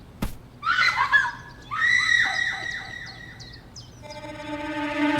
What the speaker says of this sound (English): scream. Someone's in trouble.